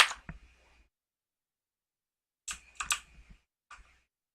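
Keys on a computer keyboard are pressed for shortcuts, a single quick cluster of taps at the start, then silence, then a short burst of several clicks and one last tap, close and crisp.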